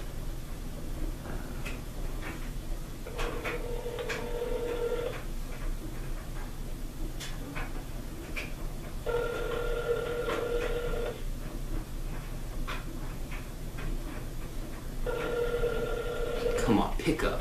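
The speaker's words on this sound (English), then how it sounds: "Let me dial the number" A phone line rings after a number is dialed, three evenly spaced ringback tones each lasting about two seconds, heard faintly under a quiet room with ticking clicks.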